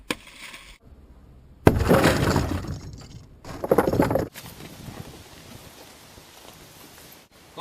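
Car window glass is punched out during a rescue extrication, giving loud bursts of shattering and crunching glass with scattered fragments, followed by a quieter stretch of continuous hiss.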